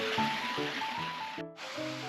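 A babbling river flows steadily beside an open-air hot spring in the Aomori mountains, a continuous close wash of water noise with faint tonal sounds over it and a brief dip near the end.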